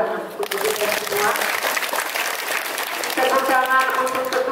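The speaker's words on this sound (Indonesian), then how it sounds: "Tepuk tangan untuk kita semua." Applause from students and staff at a Catholic high school assembly, steady broadband clapping that fills the room for several seconds while voices and cheering carry over it.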